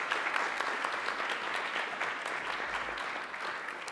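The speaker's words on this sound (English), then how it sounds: "Let's give her a big round of applause." An audience at a community event applauding a speaker as she is introduced, a dense, steady wash of clapping from a crowd filling the whole moment.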